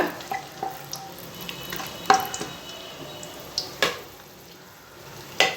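Cardamom, cloves and bay leaf tempering in hot oil for chicken pulao, giving a soft steady sizzle with a few sharp pops and crackles scattered through, no talking.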